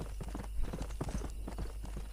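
Hooves of a stallion in the Red Dead Redemption video game clip-clop at a walk in an uneven rhythm, fairly close but soft, with no talking.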